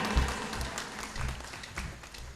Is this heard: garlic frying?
no